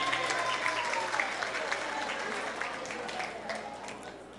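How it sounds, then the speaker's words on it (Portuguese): An audience at a lecture on gender and the world of work, held for a social work course, claps together in a soft, continuous burst that slowly fades, with faint speech mixed in underneath. "palmas para ela"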